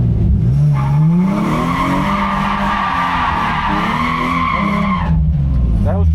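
A car drifts in a steady circle at a drift day, its tires skidding and squealing continuously for about five seconds under a droning engine, then the screech cuts off abruptly.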